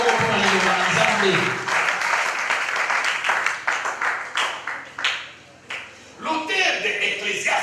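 A church congregation applauding in a dense, loud wash of clapping that fades after a few seconds, with a preacher's voice carrying over and after it.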